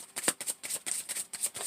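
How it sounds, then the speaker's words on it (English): A deck of cards is shuffled close up in a tarot-style reading, a quick run of crisp riffling bursts in an uneven rhythm, with no talking. "I'm going to shuffle 3 times."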